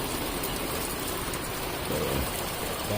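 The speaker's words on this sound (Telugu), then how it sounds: "ఇక్కడ వర్షం పడుతుంటే ఎలా ఉంటాయనేది చూపిస్తాను మీ అందరికీ." Steady rain falling outdoors in America, a dense even hiss of drops on surfaces that stays constant and close throughout, with no voices.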